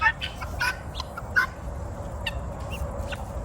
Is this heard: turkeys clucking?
yes